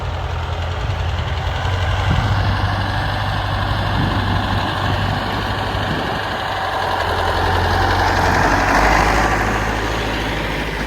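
A Farmall 504 diesel tractor idles steadily outdoors with a low, even rumble and slight knocking, loud and close, with wind-like noise over it and no talk.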